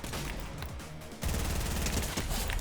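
Rapid automatic gunfire bursts from Fortnite gameplay, dense and loud, with a brief lull before a heavier, sustained volley of shots.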